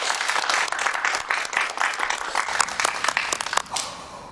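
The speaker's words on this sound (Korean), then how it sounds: "여러분, 손여사님을 위해서 저희 박수 한번 부탁드릴까요?" A studio audience claps on request for a woman on a television drama set, producing a lively burst of many overlapping hand claps that holds steady, then thins and fades toward the end.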